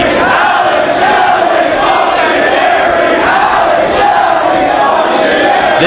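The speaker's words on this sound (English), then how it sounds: "This crowd red hot for this world title match." A wrestling crowd at a live Ring of Honor world title match in Manhattan's New Yorker Hotel in 2005 cheers and roars continuously, a loud, dense wall of voices with rising swells of chanting throughout.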